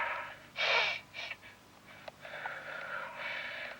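A person gasps sharply after running out of oxygen, then takes several ragged, deep breaths and sniffs, close and fairly quiet, with no talk.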